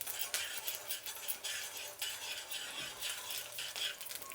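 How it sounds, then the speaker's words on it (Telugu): Urad dal and coriander seeds fry in a little oil for a chutney, with a soft sizzle under repeated scraping and stirring of a utensil against the pan, close and continuous. "ఇప్పుడు ఉద్దిపప్పు, అలాగే ధనియాలు. ఇప్పుడు దీన్ని కొద్దిగా వేయించుకుందాం."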